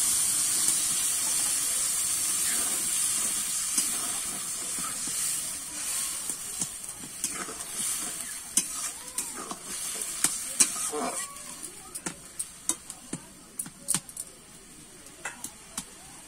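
Mustard paste and water hit a hot pan for a flat bean curry, giving a steady sizzling hiss that slowly fades into sharp crackles and spatters.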